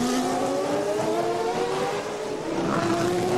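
CART race cars at full throttle at the 2002 Grand Prix of the Americas in Miami, a loud steady engine drone with rising and falling tonal whines as cars pass close by.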